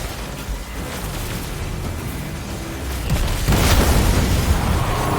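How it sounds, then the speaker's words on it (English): A loud, rumbling in-game explosion in Destiny 2 bursts out about three seconds in. It rolls on heavily over an already noisy, busy mix of game sound. "I thought I heard an explosion."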